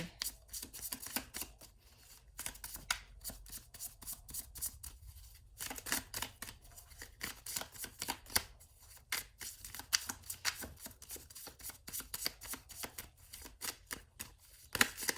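Tarot cards shuffled and drawn during a pick-a-card reading, with dense, crisp riffling and snapping bursts running almost continuously, close and fairly quiet, briefly pausing midway.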